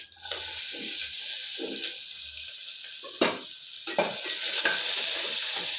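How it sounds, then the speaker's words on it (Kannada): Curry leaves and onion frying in hot oil for fenugreek sprout rice bath, a steady close sizzle with several sharp scrapes and clinks of a ladle stirring in the pan. "ಈಗ ಕರ್ಬೇವು ಹಾಕ್ಕೊತಾ ಇದ್ದೀನಿ ಈರುಳ್ಳಿ ಹಾಕ್ಕೊತಾ ಇದ್ದೀನಿ"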